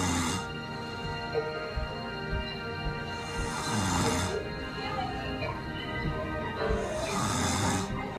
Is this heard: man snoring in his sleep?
yes